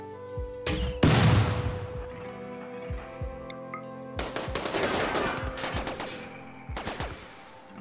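Gunfire in RimWorld video game combat: loud, close bursts of rapid machine-gun fire and individual shots, with sharp onsets and ringing tails, in repeated volleys separated by short pauses.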